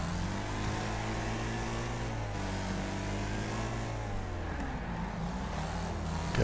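Race car engines in the game Wreckfest drone and rev together, a stock car among them, with layered engine tones rising and falling as the cars jostle through a corner.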